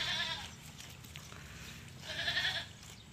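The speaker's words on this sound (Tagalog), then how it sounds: "Po mga ka-farming, ito lang ating kambing." A goat, a breeding doe, bleats twice, close and fairly loud, with a quiet stretch between the two calls and no talking.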